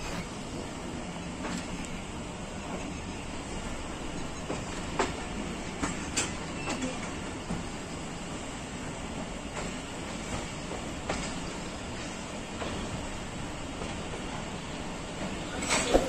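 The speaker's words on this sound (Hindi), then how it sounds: "10 डाउन अल्लामा इकबाल एक्सप्रेस सियालकोट जंक्शन से रवाना हो रही है" The Allama Iqbal Express pulls out of Sialkot Junction with a steady rumble, wheels clicking on rail joints and scattered clanks. The noise is continuous and close, with no talk.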